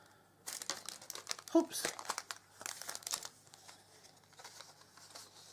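A package is torn and ripped open, with bursts of crinkling plastic and paper rustling close by, and a brief spoken remark partway through.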